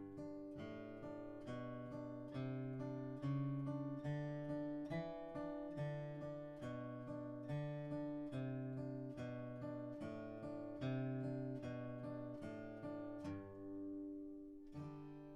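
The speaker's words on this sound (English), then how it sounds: "This is from a Carcassi exercise, so normally this would be played with your fingers. But we're going to do it with a pick because we can." Pick-played acoustic-style guitar phrase from a Carcassi exercise: a steady stream of evenly plucked single notes in a flowing arpeggio pattern, clear and close, fairly soft, ending on a held note, with no talking.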